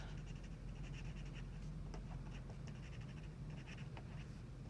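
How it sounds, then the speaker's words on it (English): Pen or pencil writing on paper, a steady faint scratching with brief stroke ticks, close and alone over a low constant hum. "So I'm going to write, she understands"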